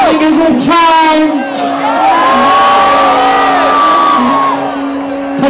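A concert crowd at a show screams, whoops and cheers loudly and continuously, with yells and a voice bellowing over the roar of the packed audience.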